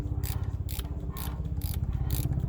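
A socket wrench ratchets during manual retraction of an HWH RV slide-out at the solenoid valve release, giving a steady run of about six evenly spaced clicking bursts, close and moderately loud.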